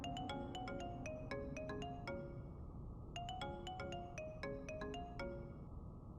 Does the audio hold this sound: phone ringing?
yes